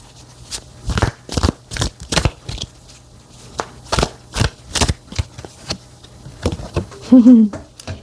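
Tarot cards are shuffled by hand in a run of crisp, riffling bursts, close and loud, about a dozen quick ruffles with short pauses between, ending in a brief tonal murmur.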